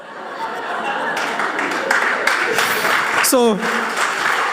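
An audience at a spiritual talk breaks into clapping mixed with chuckles and laughter, a busy crowd wash that builds briefly while a voice speaks over it.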